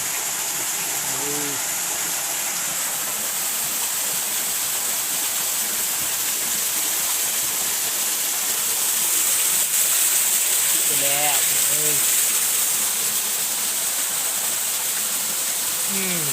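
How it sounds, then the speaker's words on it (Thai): A small waterfall rushes in a steady, loud, broadband roar that fills the whole clip outdoors, with brief voices breaking in over the flow. "น้ำตกที่ใหญ่ที่สุดของโลกถ้าเทียบใส่ตัวหน่อยสุดเลย"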